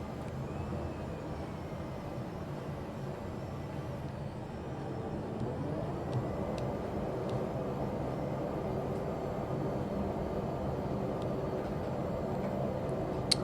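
An airplane engine in Microsoft Flight Simulator 2020 drones steadily through a scenic flight, its tone shifting slightly as the throttle is pushed up and then eased back, with no talking.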